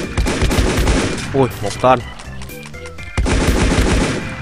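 Rapid bursts of automatic gunfire from a weapon in Minecraft PE, loud and close with short pauses between volleys, while someone speaks briefly over the shooting.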